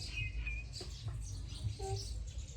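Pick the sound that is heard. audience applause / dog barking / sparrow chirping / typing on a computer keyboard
sparrow chirping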